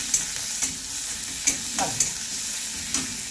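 Curry leaves, green chillies and coriander being stirred through a vada pav filling in a frying pan: a steady low sizzle with a few distinct spatula scrapes and taps against the metal, close by and without any talk.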